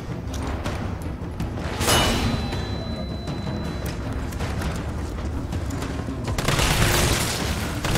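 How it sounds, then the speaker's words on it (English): A flash grenade goes off in Resident Evil 3, a sharp blast near the two-second mark and a second, broader burst late on, set against a busy, rumbling game soundscape. "Flash grenade."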